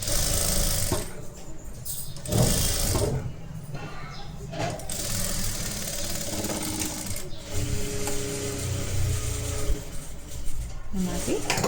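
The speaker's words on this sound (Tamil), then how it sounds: "இந்த ஃபேப்ரிக் இப்படி ஃபோல்ட் பண்ணி ஒரு ஸ்டிச் போட்டுக்கோங்க" A sewing machine stitches folded fabric for a half collar in rhythmic bursts of mechanical clatter, starting and stopping across the stretch, with someone talking over it throughout.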